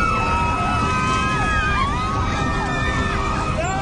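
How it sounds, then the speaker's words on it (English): Ground proximity warning alarm in a Flash Airlines jet diving toward the Red Sea: loud, rising and falling electronic whooping tones repeat over a steady rushing background, with murmured voices beneath. "Then they hear the ground proximity warning."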